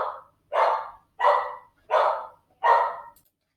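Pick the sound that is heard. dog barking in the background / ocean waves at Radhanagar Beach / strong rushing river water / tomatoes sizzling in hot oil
dog barking in the background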